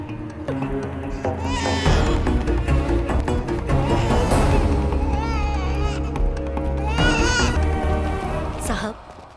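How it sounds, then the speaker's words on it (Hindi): Baby crying in a village scene of a Hindi-dubbed action film, wailing bursts that rise and fall over music and background voices, with people talking. "वो बस वहाँ एक बच्चा रो रहा था।"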